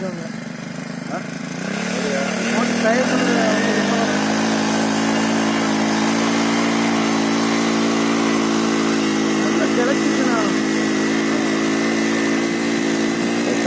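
A paddy-field weeding machine's small engine starts up and runs at a steady, loud drone in a rice field near Melur, Madurai, with people talking over it.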